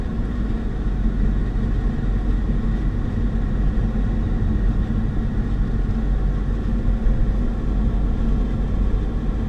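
A car drives slowly through a hillside residential street on a golf course community in Chattanooga, its engine a steady low hum with broadband road rumble, close and continuous with no talk.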